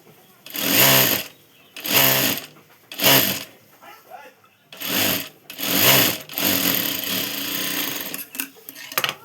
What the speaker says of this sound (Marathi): आता ह्या खाचीपासून ह्या खाचीपर्यंत अशी टीप मारून घ्यायची.